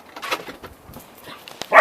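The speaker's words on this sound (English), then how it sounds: "just barked right in front of Puka's face" A single sharp dog bark, loud and close, arrives at the end after soft shuffling and small whimper-like noises.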